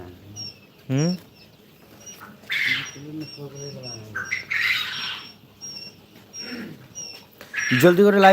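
Farm birds squawk and call repeatedly nearby in rising, harsh cries while drinking water, mixed with people talking and some scuffling.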